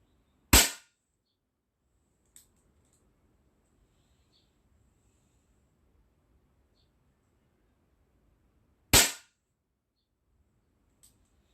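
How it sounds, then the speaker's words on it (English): Two sharp, isolated blank shots fired during a shooting training session, spaced about eight seconds apart, each a loud crisp crack against near silence, with a few faint clicks in between. "Now I'll do a few blank shots."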